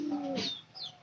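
Pigeon cooing nearby, a low throaty coo followed by a brief higher call, heard alone without talk.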